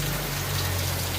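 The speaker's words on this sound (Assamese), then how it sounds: "গোটেই গাল পলপালকৈ বৰষুণ দি আছে।" Heavy rain pours steadily on a home in Assam, a dense continuous hiss with a low hum underneath, no voices.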